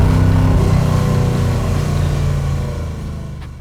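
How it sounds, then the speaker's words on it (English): A 1969 Chevrolet Camaro RS/SS restomod with a 498ci engine revs loudly and close, its deep exhaust rumble holding steady and then slowly easing off, with no talking over it. "Man, that exhaust sounds so great. The motor sounds so great."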